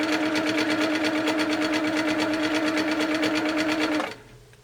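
Baby Lock Tiara II sewing machine stitching at a steady fast pace, a loud, even rhythmic whir of the needle that stops abruptly near the end.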